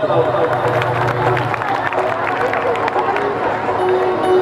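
Crowd at a live music event honoring Dr. Babasaheb Ambedkar, with a steady wash of applause, cheering and babble filling the whole stretch, dense and sustained without a break.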